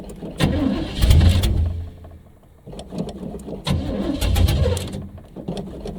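A 1980 Chevy Malibu Landau cranking on a cold start, heard from inside the car: two loud bursts of starter cranking separated by a short pause, with birds cooing faintly in the background.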